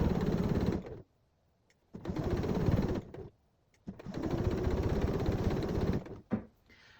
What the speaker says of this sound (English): we're going to sew using a 1/2 inch seam allowance all the way around